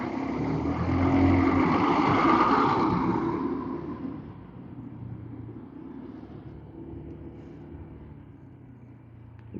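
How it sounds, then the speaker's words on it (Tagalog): A big truck rumbles past on a road at night, a deep engine roar swelling to a loud peak and then fading into a low, steady drone, with no talk over it. "Kalaki nitong truck na to ay."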